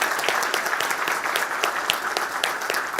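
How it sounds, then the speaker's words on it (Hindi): Sustained applause from an audience at a laughter yoga session, a dense continuous wash of many hands clapping at steady loudness throughout. "एक बार ताली हो जाए."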